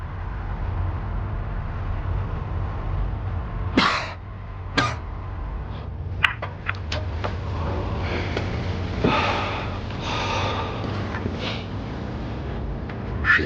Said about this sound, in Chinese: 你咳嗽一声。